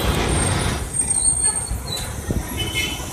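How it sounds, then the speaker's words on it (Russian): Road traffic in Giza, Egypt: a continuous broadband roar of engines and passing vehicles, with a bus-like rumble and a faint high hiss, steady throughout with no speech. "Это Гиза. Трафик в Гизе"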